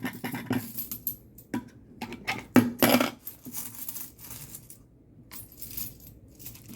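20-peso coins drop one after another into a Red Horse coin bank, a series of bright metallic clinks and rattles, close up, with several louder impacts in the middle and no talking.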